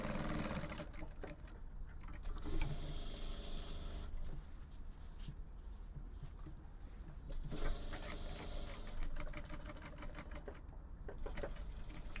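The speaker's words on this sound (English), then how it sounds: "You start sewing. Start from the hemline like this." A sewing machine stitches a lapel facing, starting from the hemline of a shirt dress, in steady runs of rapid mechanical whirring and clatter, close and continuous with short pauses between bursts.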